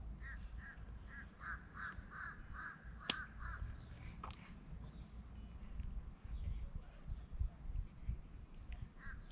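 Crows caw outdoors, a rapid run of harsh calls at a moderate distance followed by a couple of isolated caws, over a low rumbling background with a sharp knock, and no talk.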